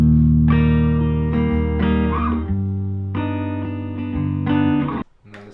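Distorted electric guitar recorded through a Shure SM7 microphone plays sustained chords with a few changes, loud and close, ringing out before cutting off near the end.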